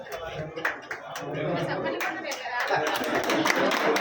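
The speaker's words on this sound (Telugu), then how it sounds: "గట్టిగా చప్పట్లు" An audience at a stage event claps as a guest is called up, scattered applause swelling over a few seconds under crowd chatter and voices.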